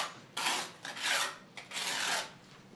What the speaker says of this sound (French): nous utilisons un mortier ordinaire que nous appliquons à la truelle